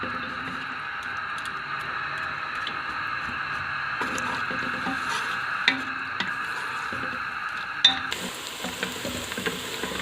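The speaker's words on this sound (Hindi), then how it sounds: "बस अब इसको हिलाते जाएंगे ताकि ये अच्छी सी मीडियम ब्राउन हो जाए।" Onions sizzle in a pan for beef nihari while being stirred, giving a steady close frying hiss with occasional scraping and clinks of the spoon and no talk.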